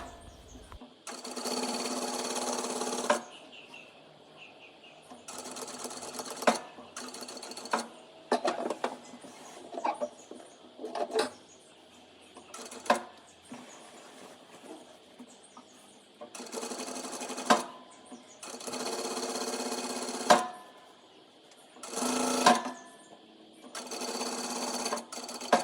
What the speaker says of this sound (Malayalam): പിന്നെ അത് സെക്യൂർ ചെയ്യാൻ വേണ്ടിയിട്ടുള്ളൊരു ടോപ്പ് സ്റ്റിച്ച്.